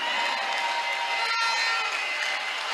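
A church congregation cheering and acclaiming together in a steady, loud crowd roar, with a brief sharp burst midway, no individual speech standing out.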